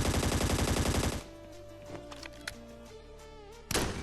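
Gunfire in the Scarfall 2.0 battle royale game, Mumbai map: a loud, dense rapid burst for just over a second, then quieter scattered single shots, and a final sharp loud burst near the end.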